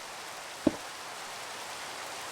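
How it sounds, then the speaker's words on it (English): Steady hiss of rain falling in Minecraft during a Skyblock Odyssey 2 modpack session, soft continuous patter with a single brief thump partway through. "Oh god, here comes the rain."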